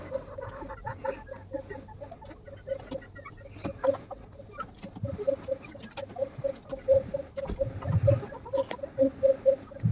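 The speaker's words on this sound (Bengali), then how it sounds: "এটা আমার মুরগির ঘর। এর ভিতরে কয়েকটা মুরগি আমি পালন করি।" Chickens in a backyard coop, steady rhythmic clucking repeated in quick pulses close by, with occasional louder calls and scratching rustle.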